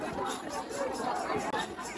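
A dense crowd at the Dnyaneshwar Maharaj palkhi procession at Dive Ghat, with bullocks present, a continuous murmur of many voices close around.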